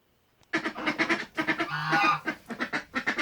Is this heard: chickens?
yes